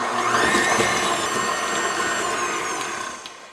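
An electric hand mixer creams brown sugar into cupcake batter for maple bacon cupcakes, a steady loud whirring drone that holds for several seconds and then eases off slightly near the end, with no voices.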